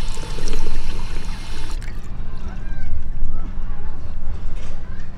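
Water runs from a public drinking-water dispenser in a park in Australia, a loud, steady splashing that rises and falls, with voices in the background.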